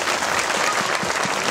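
A crowd at a conference gives loud, sustained applause: steady dense clapping throughout the short stretch, up close and without talk.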